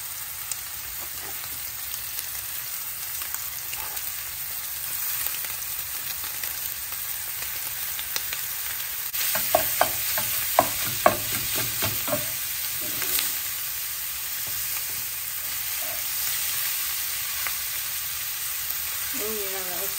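A pound of sweet Italian sausage fries in a pan for a breakfast casserole, giving a steady close sizzle with a cluster of sharp utensil clicks and scrapes midway.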